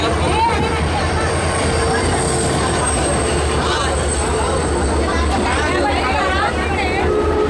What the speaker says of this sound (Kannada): ಯಾವುದೋ ಟ್ರೈನ್ ಅರೈವ್ ಆಯ್ತು ನೋಡ್ರಿ ಇಲ್ಲಿ